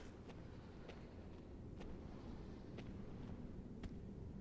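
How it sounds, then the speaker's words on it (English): Soft, faint footsteps spaced about a second apart in Dark Souls 3, heard under a steady low ambient hum with no voices. "I hear footsteps."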